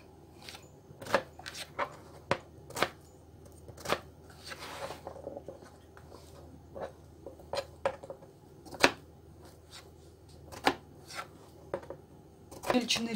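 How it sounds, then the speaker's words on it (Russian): Eggplant being cut into cubes for a vegetable ragout with mushrooms, sharp irregular knife taps on a board repeating throughout, close and distinct over a quiet background. "Тоже нарезать кубиками."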